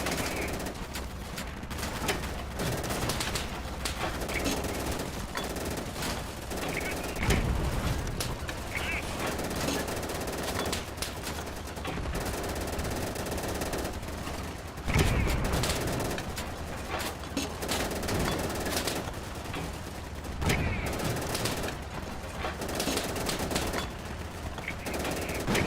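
Rapid machine-gun bursts and scattered rifle shots crackle across a World War II battle in the shooter game Easy Red 2 set in France 1940, dense and continuous with sharper volleys standing out amid the din.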